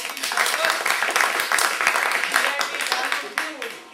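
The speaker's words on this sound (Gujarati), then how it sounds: "પહેલા એડવાન્સમાં જરીવાલા માટે તાળી પાડો." An audience at a business meeting applauds for a long-serving member, with sharp, irregular claps filling the room and voices mixed in over them.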